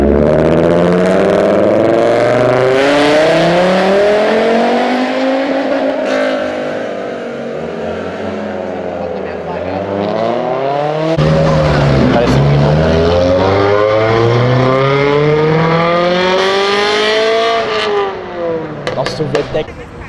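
A Toyota Supra with a 2JZ engine accelerates out of a gas station, its revs climbing and sweeping in loud, continuous rising pitch through the gears, with people talking over the engine.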